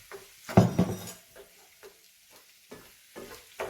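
Corned beef being stirred in a pan with potatoes and onions makes scraping, clattering stirs over a faint sizzle. Irregular utensil knocks come close and fairly loud, with quieter gaps between them and no talk.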